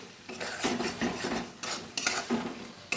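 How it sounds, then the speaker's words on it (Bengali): Pointed gourd being stirred with spices in a pan, a utensil scraping and clinking against the metal in uneven strokes with faint sizzling underneath, close and fairly loud, no talking. "এবার কিছুক্ষণ এটাখানে নেড়ে একটু ভালোভাবে পটলের সাথে মশলাগুলো মিশিয়ে নিয়ে জল দিয়ে দেবো"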